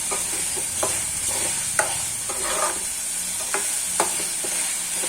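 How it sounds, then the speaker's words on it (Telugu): Food fries in a pan with a constant hiss and sizzle, broken by periodic scraping strokes as it is stirred. The cooking sounds close and continuous, with no talking. "బాగా వేయించుకోండి పచ్చివాసన పోయేదాకా"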